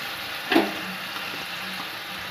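Chili chicken coated in soy sauce, mustard oil and tomato sauce is stirred in a pan over low heat: a steady soft sizzle with one brief spoon scrape near the start, close by and without talk.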